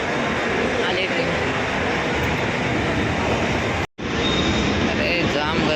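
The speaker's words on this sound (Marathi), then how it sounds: "आले ट्रेन." A local commuter train pulls into a station after running late, its rumble and rolling clatter loud and continuous throughout, broken by one brief cut near the end, with a voice speaking over it.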